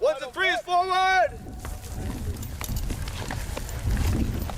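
Cavalry horses shift and move as reenactment riders dismount to fight on foot: a brief shouted voice opens, then a steady, muffled rumble of hooves and movement carries on at moderate loudness.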